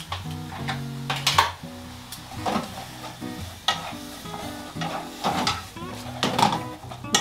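Mackerel pasta sauce with ago dashi tsuyu bubbling and sizzling in a pan over low heat while being stirred, with utensils scraping and clinking against the pan throughout, close and steady.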